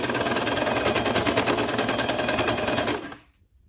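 A serger sewing machine runs steadily through fabric for about three seconds with a fast, even mechanical chatter, then stops abruptly into near silence.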